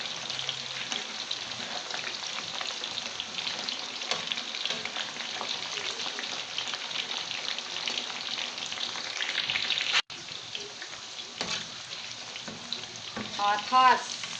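Beef fries in hot oil with a steady, close crackling sizzle, stirred now and then with scraping and clinking of a utensil, with a short pause near the end.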